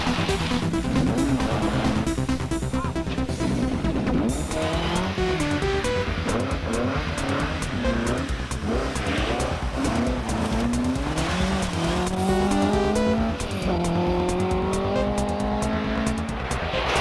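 Rally Mini on a Finnish stage being driven off, engine revving hard through rising and falling gear pulls with bursts of tire squeal and skidding, loud and close throughout.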